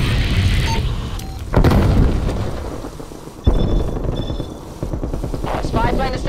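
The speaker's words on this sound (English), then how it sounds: "Throwing grenade!" Grenade blast in Call of Duty Black Ops Cold War team deathmatch, two heavy booming explosions about two seconds apart amid constant loud battlefield noise, with game voice callouts in between.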